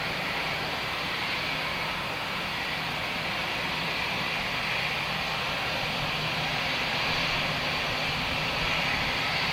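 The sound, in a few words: EasyJet jet airliner at Luton Airport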